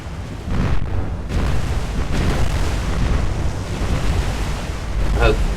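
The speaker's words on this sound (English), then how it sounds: "Had magazine explosions" Ship magazine explosions in the naval combat game War on the Sea, a heavy, continuous rumbling roar with deep blasts and surging noise that hold steady throughout.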